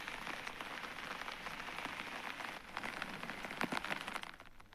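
Heavy monsoon rain pours steadily on surfaces in Chikkamagaluru, where flooded roads line the swollen Tunga river; a dense, continuous hiss with a few sharper drip spatters near the end.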